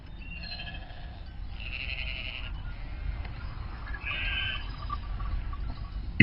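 Sheep bleat in a field as a flock grazes, with two clear drawn-out calls rising above a steady low rumble of outdoor background noise.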